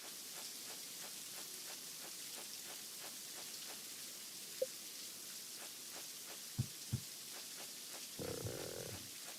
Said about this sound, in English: listen to the rain ambience